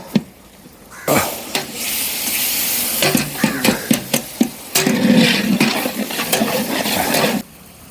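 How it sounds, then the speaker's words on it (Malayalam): Onion, tomato and green chili are stirred in a hot pan for chicken sukka, a loud, close sizzle surging and fading with a run of rapid spatula scrapes and clanks in the middle. "ഉള്ളിയും തക്കാളിയും പച്ച എല്ലാം നന്നായി ഒന്ന് മിക്സ് ചെയ്ത് കൊടുത്തിട്ട്"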